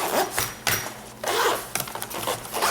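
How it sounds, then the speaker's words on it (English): A zipper is drawn closed around a soft padded carrying bag for an OP-1 synthesizer, giving several short scratchy pulls in bursts, close up and with no talking. "zips right up."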